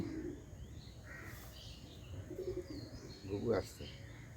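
A dove coos outdoors in the morning, a few soft, low, rounded calls spaced apart under ambient noise, with other birds chirping faintly and someone talking nearby.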